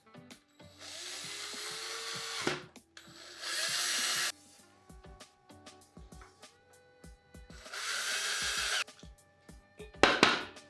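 Power drill driving screws to mount fixtures onto a wooden plank, with three loud whirring bursts separated by quieter handling knocks and clicks, heard close.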